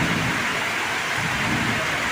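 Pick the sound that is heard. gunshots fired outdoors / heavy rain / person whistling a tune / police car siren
heavy rain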